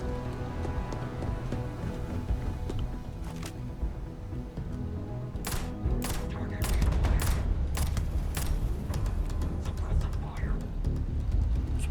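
Rapid gunfire rattles through a Starfield firefight, with dense volleys of sharp shots that grow heavier and more continuous over a booming low backdrop.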